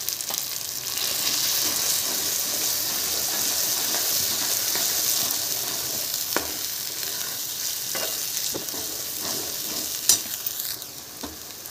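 Tomato chutney masala sautés in a pan, a loud, continuous close-up sizzle with stirring scrapes. It quiets slightly toward the end as a few distinct utensil knocks ring out.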